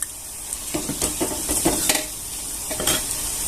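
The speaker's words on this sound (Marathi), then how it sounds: "छान असं आपल्याला हलवून घ्यायचं आहे" Ghee and flour mixture stirred in a pan for modak-style sweets, with a gentle sizzle and a run of scraping, clinking spoon strokes against the pan at an irregular rhythm, close and moderately loud, no talking.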